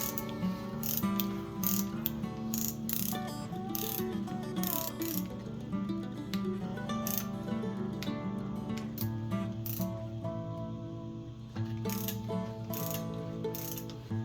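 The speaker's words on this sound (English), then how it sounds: "We're gonna torque these down." A ratcheting torque wrench tightens the rocker arm bolts on an AMC 360 V8 from a Gremlin, making rapid, close clicking runs in repeated bursts with short pauses between strokes.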